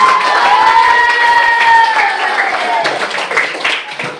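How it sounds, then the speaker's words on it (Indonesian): A room full of teenagers at a school mental-health session bursts into loud applause and cheering, with shouting and whooping voices riding over brisk clapping that gradually eases off. "Ya, tepuk tangan dulu dong."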